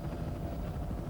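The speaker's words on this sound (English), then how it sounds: "Helicopter ground speed still almost 80 miles an hour." A helicopter flies at close to 80 miles an hour as it follows a car race, giving a continuous low, heavy rumble that fills the short stretch, with no voices.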